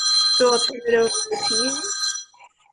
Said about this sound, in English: That was my alarm to stop talking